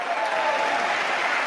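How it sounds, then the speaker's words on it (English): A short burst of crowd applause at a post-game show after the Carolina Panthers played the Dallas Cowboys: steady, even clapping that holds for the whole moment with no talk over it. "That call gets the applause."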